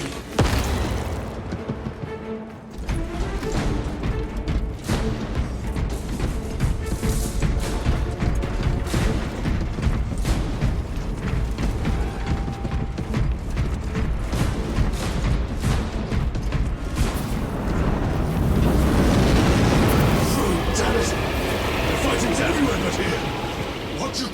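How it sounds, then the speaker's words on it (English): Frag grenades exploding amid a firefight in Warhammer 40k Space Marine 2, with dense booms and crashing blasts layered over continuous loud battle noise and shouting voices, growing heavier toward the end. "Deploying frag grenades!"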